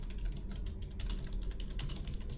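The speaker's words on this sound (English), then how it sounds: "Medusa is typing." Rapid keyboard typing in a video game scene, a close, continuous patter of key clicks over a low steady background hum.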